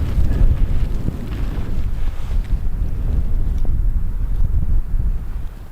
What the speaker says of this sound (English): It's getting pretty fresh out here in the wind